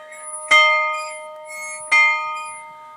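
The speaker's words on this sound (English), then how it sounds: "And this is a bell." A bell in a prayer chapel strikes twice, about a second and a half apart, each close, loud stroke leaving a bright, sustained ringing tone that slowly decays.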